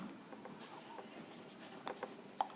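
A formula is written on a board in soft, close scratching and tapping strokes, quiet and steady with a couple of sharper taps.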